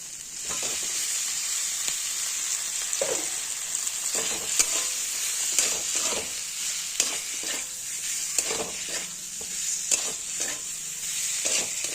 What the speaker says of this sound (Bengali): মশলাটা অনেকটা কষানো হয়ে এসছে, দিয়ে দেবো ভেজে রাখা ফুলকপি